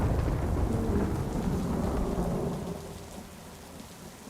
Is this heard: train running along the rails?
no